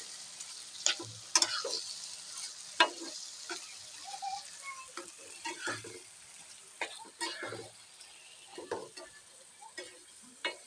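Boiled taro leaves being stirred with spice paste in a pan, giving soft scrapes and wet clicks in an irregular rhythm over a faint sizzle, fairly quiet and close.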